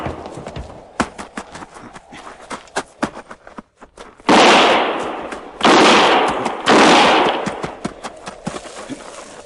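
Gunfire sound effects for an old-time Western radio drama: sharp, scattered single shots and cracks, then three long, loud roaring bursts of sustained volley fire, close and dominating, with no voices over them.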